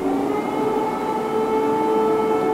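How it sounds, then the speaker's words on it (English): Air raid sirens blare over Kyiv overnight, a sustained steady wailing tone with a faint distant quality, loud and continuous throughout with no voices. "Thousands of residents took shelter underground as sirens blared through Kyiv overnight"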